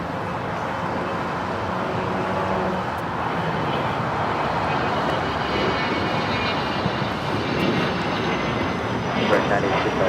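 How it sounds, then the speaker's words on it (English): A 42-year-old privately owned BAE 125-700A business jet departs LAX, its engines giving a steady, broad roar heard at moderate distance and holding level throughout. "It's private owner of this BAE 125-700A. Heading on out of here."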